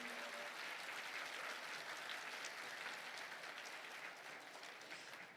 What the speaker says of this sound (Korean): 박춘란 차관님께 다시 한번 큰 박수 보내주십시오.